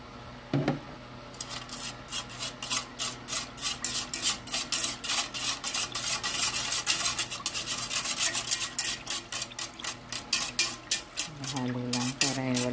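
A utensil scrapes rhythmically around a pot while stirring a gelatin jelly powder mixture with condensed milk for mango jelly, steady repeated strokes close up, with a brief voice at the start and end.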